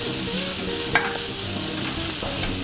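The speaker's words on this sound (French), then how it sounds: "l'oignon est caramélisé un petit peu" Onion caramelizes in a pan, with a close, steady sizzle and soft stirring scrapes; a single sharp tap near the start.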